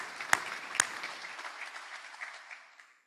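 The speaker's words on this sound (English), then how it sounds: "let's give ourselves a round of applause for that" Applause from an audience at a Rotary Club of Gainesville meeting: a dense patter of clapping with two sharp louder claps near the start, fading steadily over about three seconds.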